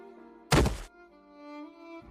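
A person drops hard to the ground after being pushed, giving one loud, close thud with a short crash lasting about a third of a second, followed by quiet room tone.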